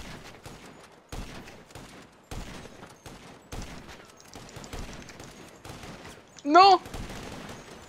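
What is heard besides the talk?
gunfire in the video game GTA 5 Online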